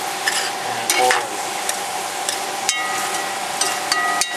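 Brown gravy with oil is stirred in a hot pot for jambalaya, giving a steady close sizzle and fry hiss broken by sharp, irregular scrapes and clicks of the spoon against the pot, with no talking.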